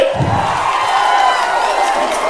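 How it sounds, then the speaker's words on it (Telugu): A political rally crowd cheering and whooping loudly, a dense roar of many voices that swells briefly near the start and then holds steady. "మీరంతా గట్టిగా చప్పట్లు కూడా చెప్పండి"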